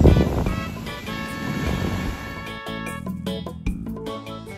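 Atlantic surf rolls onto a Florida beach, a loud rushing wash of waves mixed with wind buffeting the microphone, easing off toward the end.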